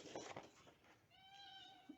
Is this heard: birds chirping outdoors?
no